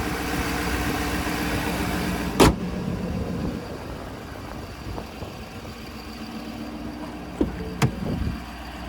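A 2025 Ford F-250 XLT Premium with a 6.7-liter turbo diesel runs at a steady idle, a constant low rumble with a few sharp clicks or knocks over it.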